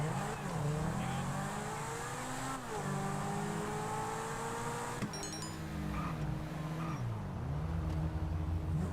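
Car in Grand Theft Auto V driven at sustained speed, engine droning and shifting pitch steadily with brief gear-change dips, close and continuous with no talk.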